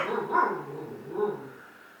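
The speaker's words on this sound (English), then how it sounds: "Why on earth is Bingo barking" A pet dog at home indoors gives two short barks about a second apart, fairly close and moderately loud, with quiet room tone between them.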